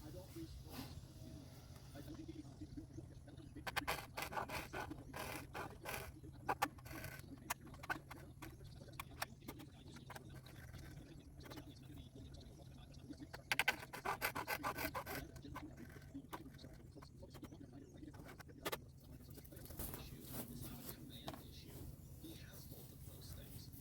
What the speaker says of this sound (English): I'm going to go back to my trusty little hacksaw here to cut this notch